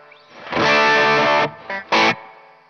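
An electric guitar plays through a TC Electronic Combo Deluxe 65 amp with a BOSS SD-1 overdrive and reverb, one loud sustained distorted chord, then two short stabbed chords, ringing close with a brief reverb tail.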